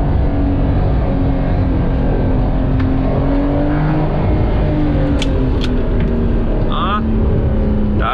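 A Porsche 911 992 Carrera 4S drives along a country road, its engine a loud, continuous drone with shifting pitch, accompanied by steady road and wind noise.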